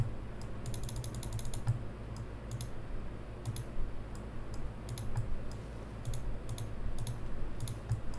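Computer keyboard key presses and mouse clicks while adjusting brush size with the bracket key in 3D item modeling software, a steady series of light, close clicks over a low background hum, no talking.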